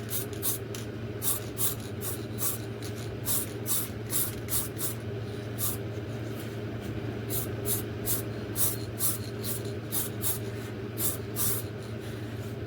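Aerosol can of grey primer sprayed in repeated short hissing bursts over a fully masked-off RC model plane, close and fairly loud, against a steady low background hum.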